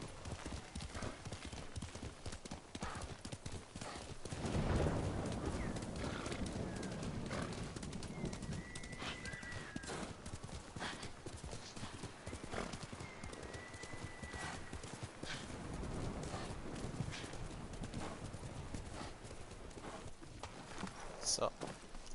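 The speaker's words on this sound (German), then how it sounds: "Ist ein braves Pferd, Kali." Horse hooves clip-clopping in the video game Ghost of Tsushima, a steady rhythmic trot carried under continuous game ambience with birds cooing and chirping, at moderate loudness throughout.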